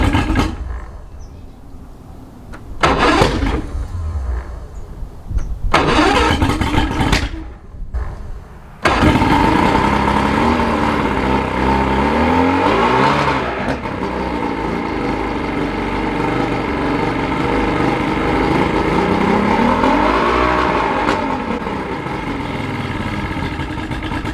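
A 1986 Aquasport boat's six-cylinder engine, run out of water, cranks in short bursts with pauses between them, then catches and runs steadily at a loud, close idle with slight changes in revs.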